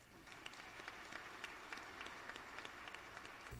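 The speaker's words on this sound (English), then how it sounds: "Let's give them a round of applause" Faint applause from a distance, a steady patter of many hands clapping with soft, scattered peaks throughout.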